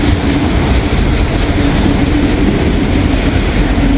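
A passing intermodal freight train roars close and loud, its wheels clicking steadily over the rail joints in a continuous rolling clatter, with a faint squeal of wheels.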